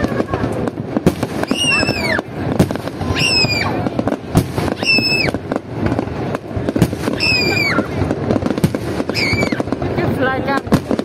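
Đồng nọc firecrackers bursting during a Tết celebration: repeated crackling blasts with whistling, rising shrieks, loud and continuous amid crowd noise.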